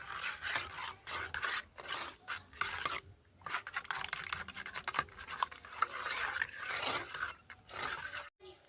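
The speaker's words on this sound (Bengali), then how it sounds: "আমি গুঁড়ো দুধটা ওই গরম জলে দিয়ে গুলে নেব" Powdered milk is stirred into hot water with quick, rhythmic scraping and rubbing strokes against the vessel, close and fairly loud, with brief pauses between bursts.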